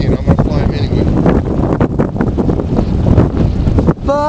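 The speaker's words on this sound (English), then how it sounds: "This is how windy it is." Strong wind buffets the microphone outdoors in a loud, continuous roar that barely lets up, with a brief dip and a faint tonal whine near the end.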